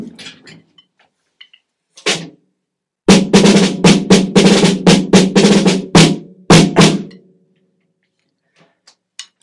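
A snare drum with a very tight head and taut metal snares underneath gives a few single sharp cracking hits, then a quick run of rapid strokes and rolls, close and dry, with no talk.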